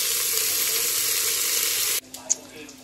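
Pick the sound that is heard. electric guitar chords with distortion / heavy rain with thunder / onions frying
onions frying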